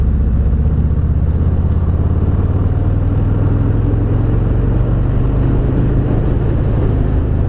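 A 2018 Harley-Davidson Fat Boy engine runs at a steady 2800 RPM while riding, giving a loud continuous low rumble with a choppy vibrating quality and a faint whine above it.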